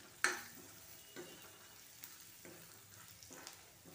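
Red chilli powder and turmeric being stirred into dal: a sharp metallic clink at the start, then a few softer scraping spoon strokes spaced about a second apart over a faint sizzle.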